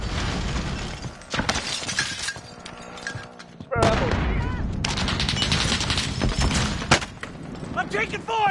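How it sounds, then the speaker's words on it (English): Video game gunfire in a fight on Caldera: rapid bursts of automatic fire and sharp cracking shots close by, with impacts and debris, pausing briefly partway and then resuming, while a voice speaks over the combat. "I'm taking fire!"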